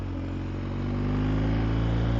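A BMW R1250GS motorcycle fitted with a MIVV exhaust idles close by with a low, steady gurgling burble that rises slightly in loudness.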